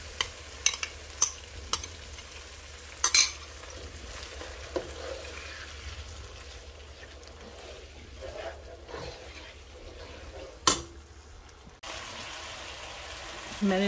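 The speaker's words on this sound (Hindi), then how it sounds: "अब मैं इसको अच्छे तरीके से भून लूँगी।" Onion and tomato masala stir-fried in a pan, with a steady low sizzle broken by sharp scraping and stirring clicks from a utensil, close and moderately loud throughout.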